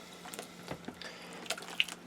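Dyed fabric is rinsed under running tap water after discharge dyeing with color remover, producing faint irregular splashes and drips, quiet and close, with no voices.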